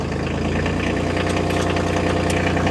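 A Bobcat CT2025 compact tractor's diesel engine running close by, a loud steady throbbing idle with a knocking mechanical clatter and no talk.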